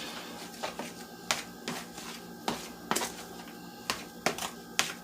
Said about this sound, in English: So here we're going to mix this all up.